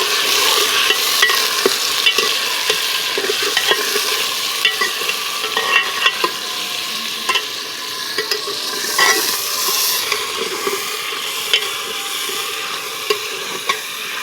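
Meat sizzling and being stirred in a large degchi cooking pot outdoors in a village, a continuous frying hiss with frequent spatula scrapes and knocks against the metal, close and loud, with no talking.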